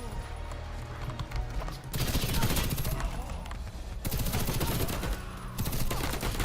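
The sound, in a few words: F2000 rifle gunfire in Warface video game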